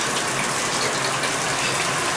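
Bathtub faucet running hot water at high pressure into the tub, a loud, steady, close gushing rush with no talking.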